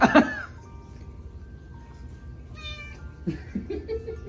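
A pet cat gives a short, close meow at the start. Quiet room sound follows, then fainter throaty and tonal sounds near the end.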